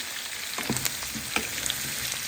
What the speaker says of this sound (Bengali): এই যে এখন আমি ঝুঁকিনিগুলো দিয়ে দিচ্ছি।